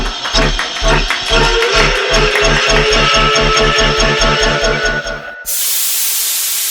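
A steam techno remix of a song plays loudly, with a driving regular bass beat under dense hissing, steam-like textures, and cuts to a sustained broadband hiss near the end.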